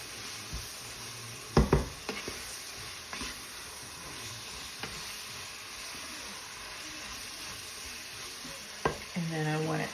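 Green chilies being stirred into a pot of hamburger taco soup, with a low steady simmer and a few distinct spoon scrapes and clunks against the pot, one louder burst near the start and more stirring at the end.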